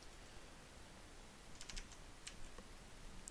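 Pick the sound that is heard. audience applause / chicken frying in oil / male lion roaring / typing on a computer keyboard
typing on a computer keyboard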